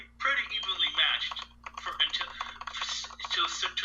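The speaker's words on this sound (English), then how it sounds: "it's probably me typing on my keyboard" Rapid clicking of computer keys runs under a person talking, with a steady low hum in the background.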